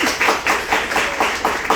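Applause at a book launch event, heard as quick, evenly spaced claps repeating in a steady rhythm, fairly close and bright, with no voices over them.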